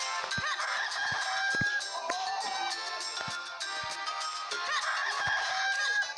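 Chickens in The Legend of Zelda: The Minish Cap cluck and crow continuously in a dense, busy game soundtrack, with repeated sharp clicks scattered throughout.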